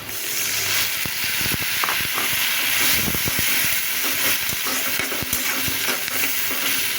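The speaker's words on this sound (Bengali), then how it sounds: "এরপর যে আমি একটু পানি দিয়ে দিলাম" Water hits a hot pan of fried dried fish, garlic and onion, setting off a loud, sustained hissing sizzle with rapid spitting crackles and a few utensil knocks, close and continuous throughout.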